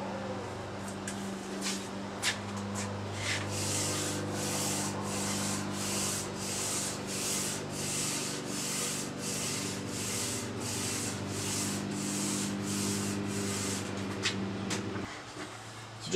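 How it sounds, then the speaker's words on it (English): Light dry hand sanding with 1500 grit automotive sandpaper over a first coat of urethane on wood, heard as a close, steady series of rhythmic rubbing strokes about twice per second over a constant background hum. "very light dry sanding with 1500 grit automotive sandpaper after our first coat of urethane"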